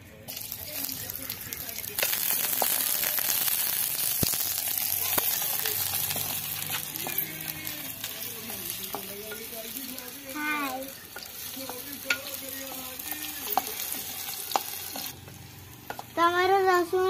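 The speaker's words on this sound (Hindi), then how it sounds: "तेल भी गरम हो गला प्याज रसुण लंका दे देबा" Onion, garlic and chili frying and being stirred in hot oil in a home kitchen, with a steady close sizzle and scraping of a spoon in the pan, while a person talks intermittently over it.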